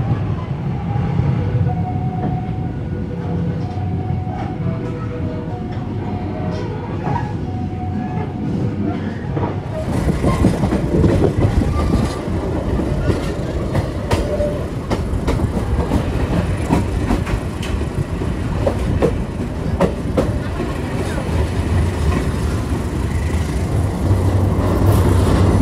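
Mutiara Timur economy passenger train rolls along the rails, a loud steady rumble with clickety-clack of wheels over track joints, growing rougher and noisier halfway through, no talk.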